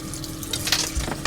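Kitchen tap water running into a sink while dishes are washed up, a steady close splashing stream with small clinks and a low thud near the end.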